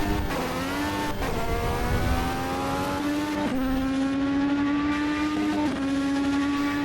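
An Indy car mod in the Automobilista 2 racing sim screams at high revs, its engine pitch climbing steadily and dropping at several quick gear shifts, loud and close throughout.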